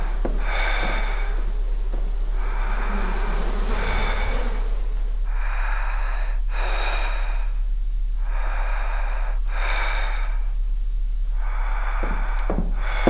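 Heavy, loud breathing from a character in a horror video game, a series of ragged gasping inhales and exhales repeating in a regular rhythm, close up and alone over a low steady hum.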